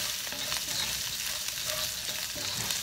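Garlic fries in a pan for ginisang upo, a constant close hiss of oil with soft scraping as it is stirred until light brown, with no talking.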